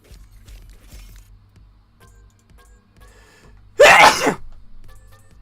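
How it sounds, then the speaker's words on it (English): A single loud sneeze bursts out suddenly near the end during an online game session, standing out clearly over faint keyboard clicks and quiet background noise. "That was the sneeze, yes."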